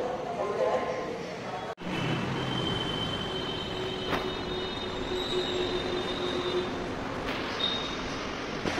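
A metro train rumbles and its wheels squeal steadily and loudly at a Jayaprakash Nagar metro station, with a sharp brief dropout partway through and no talk.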